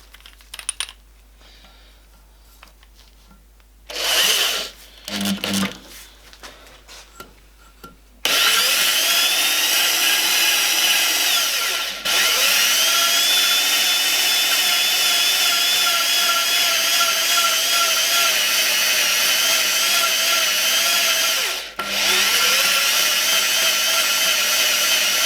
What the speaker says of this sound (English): And I'm using the drill.